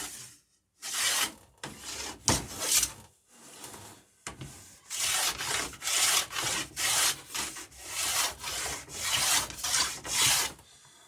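A hand rasp or file shapes a wooden rubbing rail for a boat in repeated rhythmic strokes, each a close, gritty scraping burst separated by brief pauses, with no talking.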